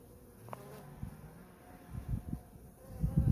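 Honeybees buzz softly around an open hive while frames are inspected for stores and brood, a low hum broken by a few handling knocks that grow louder toward the end.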